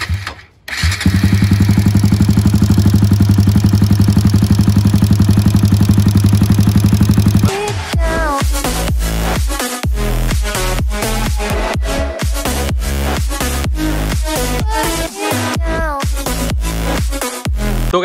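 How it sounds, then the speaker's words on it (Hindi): A Bajaj Pulsar NS200 motorcycle engine, being worked on for tappet clearance, sets off with a loud steady running roar, then breaks into choppy revving bursts with clattering pulses, close by and with no talk over it. "अभी मैं आपको स्टार्ट करके बता देता हूँ इंजन"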